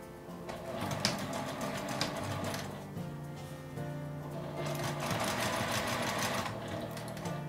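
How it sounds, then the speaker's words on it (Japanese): A sewing machine stitches fabric for a pencil case with a steady, close mechanical whirr and rapid needle clatter, running continuously with slight changes in speed. "針を落として縫います。"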